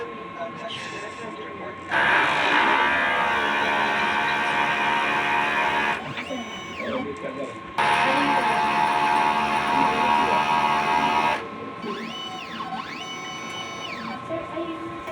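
A printer head cleaning cycle churns through loud, steady mechanical whirring in two long bursts, broken by quieter pauses with rising and falling motor whines, and a voice talks over it.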